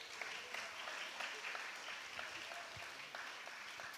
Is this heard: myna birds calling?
no